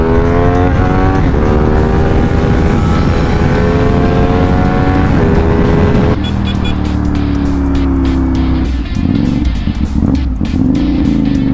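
A CF Moto 450SR motorcycle fitted with an Akrapovic exhaust, very loud and close, revving up through the gears with a rising engine howl, a shift break around six seconds, then a throaty idle and blips.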